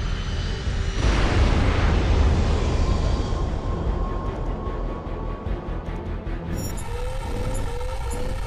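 A plane explodes in the flight combat game H.A.W.X 2, a deep rumbling boom swelling after a second and rolling on loudly, followed by crackling debris and tonal game sounds near the end, with no talking.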